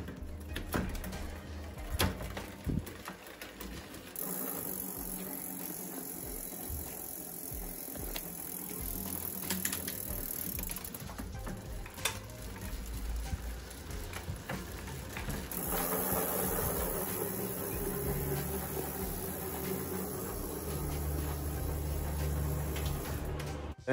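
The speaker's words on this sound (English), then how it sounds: "we're going to take a little look at how the hub sounds" Rear hub freewheel of a 2020 Voodoo Canzo full-suspension mountain bike gives a steady, moderately loud ticking buzz that runs continuously as the wheel spins, with faint rattles over it and no talking.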